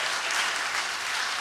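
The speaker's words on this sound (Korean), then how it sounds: "우리 청소년 박수 한번 보낼까요?" Steady crowd applause from a church congregation cheering its youth group at a Friday prayer meeting, a sustained, even clapping texture through the whole short stretch with no voices over it.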